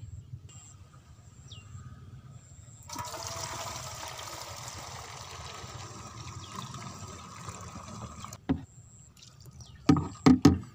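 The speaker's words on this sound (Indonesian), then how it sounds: "baru kita tuangkan ke tangki 14 liter air" Mixed water is poured into a 14-liter sprayer tank, a steady rushing pour for several seconds, followed by a few close knocks and clunks.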